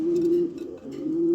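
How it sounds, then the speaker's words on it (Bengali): A male pigeon coos in a low, steady, drawn-out call that lasts through most of the moment, close and fairly clear with no talking over it. "এটাও একটা নর কবুতর।"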